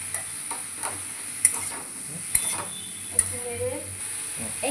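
Salt, turmeric, cumin and tomato are stirred in a sizzling pan for a thin fish curry, with a soft, continuous fry and three sharp clinks of the utensil against the pan.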